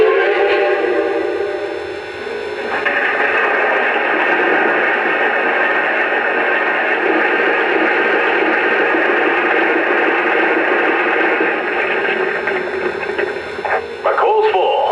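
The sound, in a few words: toy Lionel Reading T-1 train, coal added to tender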